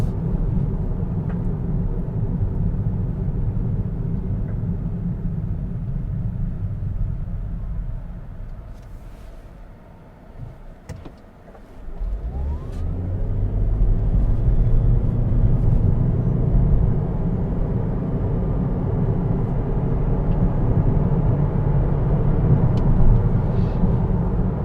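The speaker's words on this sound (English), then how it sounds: "I do hear a little road noise from the actual tires." A 2020 Toyota Prius hybrid rolling along with steady low tire and road rumble, continuous and moderately loud, briefly dipping in the middle before resuming.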